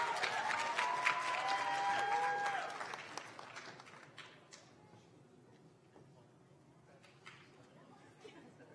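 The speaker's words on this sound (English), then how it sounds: "Notice I got more applause than Matt." Applause from an audience at a student affairs leadership awards ceremony, loud and dense for the first three seconds, then fading to scattered claps and murmuring chatter.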